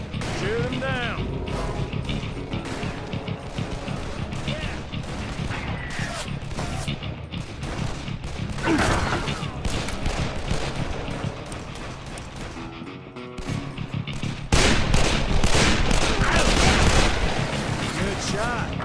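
Gunfire in a Call of Juarez Bound in Blood shootout, rapid repeated shots and clattering mechanisms in a dense barrage, growing heavier near the end, with voices talking over it.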